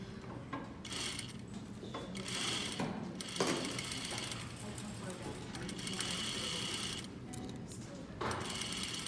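Sewing machine stitching a fabric sleeve, a steady close mechanical whir with brief stops and restarts, running under a speaking voice.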